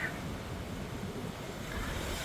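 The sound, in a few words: wind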